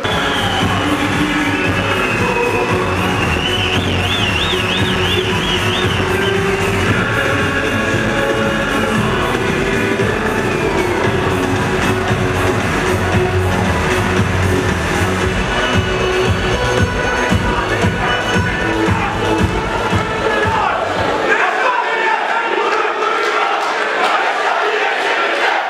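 A large crowd at a political party candidate-introduction rally in Tokat, Turkey claps and cheers loudly and continuously for about twenty seconds, with shouts mixed into a dense roar before it cuts off abruptly.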